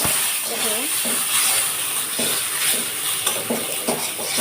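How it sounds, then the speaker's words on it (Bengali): Carrots fry in a pan with a loud, continuous hiss and sizzle, broken by stirring scrapes, while a voice talks over it. "আমি এই যে গাজরটাকে একটু ভেজে নিচ্ছি"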